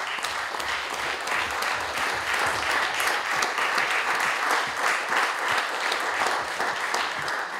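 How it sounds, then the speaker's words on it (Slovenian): A hall audience at a community event in Ormož breaks into sustained, dense applause, many hands clapping steadily and loudly for several seconds without pause. "dajmo še ne en, ampak dva aplavza za te naše mlade, ki predstavljajo Ormož"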